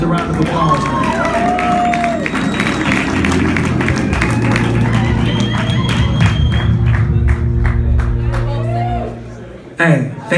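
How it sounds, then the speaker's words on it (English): Live concert audience in the Bay Area applauding and cheering, a dense sustained roar of clapping with shouts and voices mixed in, fading near the end. "Give yourselves a round of applause, man."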